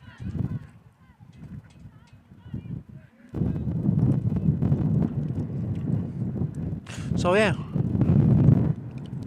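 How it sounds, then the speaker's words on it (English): Wind gusts buffet the microphone at an outdoor softball game, a steady low rumble of blustery noise under a commentator's voice, with a honking bird call briefly cutting through near the end. "it's a quite windy day"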